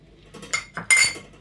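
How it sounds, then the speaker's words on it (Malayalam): Chopped garlic, shallots and half a raw mango tipped into a clay cooking pot, giving a short cluster of close clinks and knocks before a brief rattling tumble. "ഇത് നമ്മൾ ചട്ടിലോട്ട് ഇടുകയാണ്"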